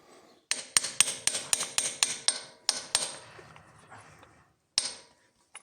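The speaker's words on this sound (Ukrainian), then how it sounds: "запихаю туди і молоточком. Клац, клац, клац." A small hammer taps metal with sharp, ringing clicks while seating injector sleeves in a YuMZ tractor engine, in a quick, uneven run of about a dozen strikes. The tapping is close, fades out, then ends with one final tap.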